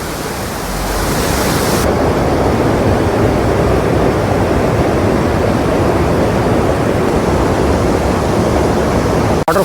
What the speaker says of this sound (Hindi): वाटरफॉल को देखने के लिए मैं यहाँ से उतर के आया हूँ नीचे